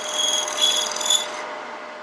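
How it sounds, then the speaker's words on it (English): A winged bowl gouge peels fine shavings from spinning wood on a lathe, a close, steady hissing scrape lasting about two seconds that thins out at the end. "That's how fine you can cut with these, with the wing on a gouge like this."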